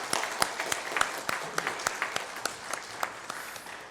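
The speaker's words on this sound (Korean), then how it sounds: "우리 다시 한번 인사하시고 박수하시겠습니다" A church congregation applauds during a Sunday worship service, a steady patter of many hands clapping together at moderate volume with some sharper individual claps standing out, over roughly four seconds.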